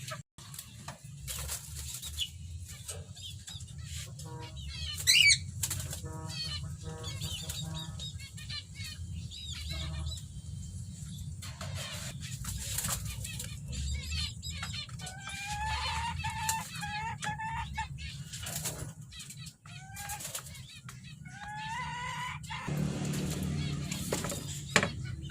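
A newly bought pet bird flutters and flaps its wings inside its cage placed near a doorway, in repeated short bursts with occasional chirps and clucks over steady low background hum, while a person speaks intermittently.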